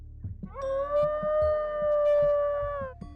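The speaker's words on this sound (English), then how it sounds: "The wild dogs cry out in the night, longing for some solitary company." Wild dogs howl at night in the horror game Echo Night, a long, sustained tonal howl rising and holding steady, with softer thumps and knocks beneath it.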